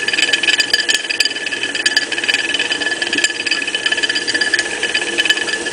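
A small water-driven turbine in a sink spins a ball magnet that rattles against it, giving a steady close whirring rattle with quick irregular clicks throughout as the turbine is turned down.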